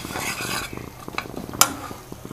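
Til cholli mixture cooking in ghee in a pan, with soft stirring scrapes and faint sizzling, a few light clinks of a utensil against the metal pan and one sharper tap, close and quiet with no talk.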